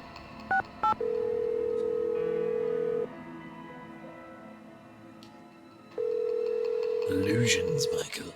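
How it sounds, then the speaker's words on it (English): Video game telephone: a short burst of keypad dialing tones, then a long steady electronic ring tone that pauses, repeats, and ends as a character's voice comes in. "should we give Bess a call?"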